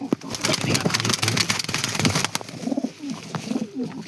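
Pigeons coo nearby in soft, low, throaty phrases that repeat, over a background rustle and faint engine hum.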